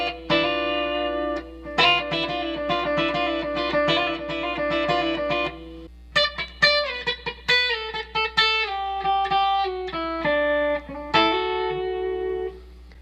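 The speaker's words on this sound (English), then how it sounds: "what's giving it that sound is that hammer on there" An electric guitar plays a twangy chicken pickin' country lick built on a hammer-on: crisp, quick plucked notes in choppy bursts, heard alone.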